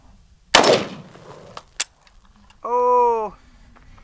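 A golden toy gun fires two sharp, close pops about a second apart, followed shortly by a brief tonal voiced sound.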